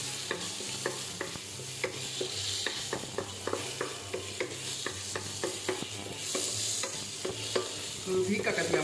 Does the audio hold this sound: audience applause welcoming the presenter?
no